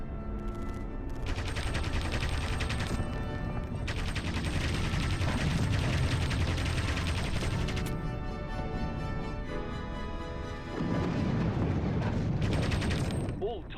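Anti-aircraft guns pound away in an aerial combat game, a dense, continuous barrage of loud rapid bursts with explosions mixed in, running nearly unbroken throughout with only brief dips in intensity.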